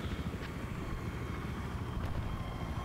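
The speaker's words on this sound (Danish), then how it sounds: "Helikopter" A helicopter in a video game thrums steadily with a dense, rumbling rotor and engine drone at moderate volume, continuous and alone for the short span.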